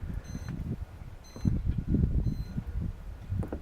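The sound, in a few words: grill temperature alarm beeping after lid opened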